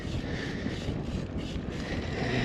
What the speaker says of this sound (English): This is a strong wind, really strong.